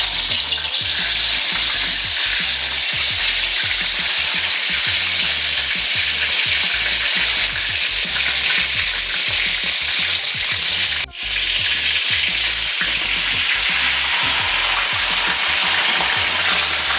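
Pressure-cooked masala shawaya chicken fries in hot oil in a kadai, giving a loud, steady, close sizzle with stirring scrapes throughout. The sizzle breaks once for a moment near the end, and no one speaks.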